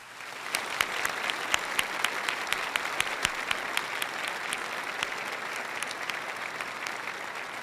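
A large crowd at the Crystal Cathedral bursts into sustained applause, dense clapping with sharp individual claps standing out, steady and loud throughout.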